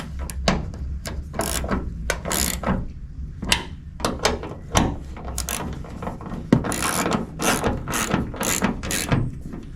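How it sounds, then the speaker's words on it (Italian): A ratchet with a 13 mm socket tightens a bolt on a Nissan Qashqai J11 hood strut bracket, giving bursts of close, sharp pawl clicks in uneven runs with short pauses, alone and without talk. "Poi andiamo a serrare con la bussola da 13."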